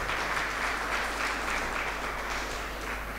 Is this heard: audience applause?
yes